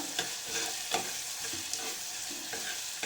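Ginger garlic paste frying in hot oil for a soya chunks pulav, a steady dense sizzle with occasional stirring scrapes and taps, close and without speech.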